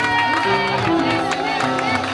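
A church congregation at a seminar cheers and acclaims the Lord with loud, continuous shouting, applause and voices in a full, reverberant crowd sound.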